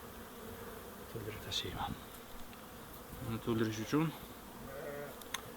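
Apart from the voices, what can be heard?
honeybees buzzing at hives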